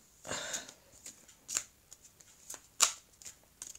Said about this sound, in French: je vais couper les cartes de jeu